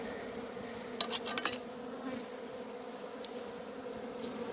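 Bees buzzing at night while honey is harvested from a hive: a constant close swarm drone, with a brief louder burst of wingbeats and rustling early on and no voices.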